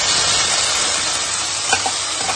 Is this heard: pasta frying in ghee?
yes